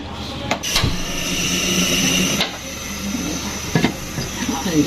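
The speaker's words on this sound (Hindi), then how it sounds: "अब चलाते हैं चूल्हा" A kitchen stove is lit and hisses steadily, a broad continuous rush with a few sharp clicks and knocks over it, while a voice speaks faintly underneath.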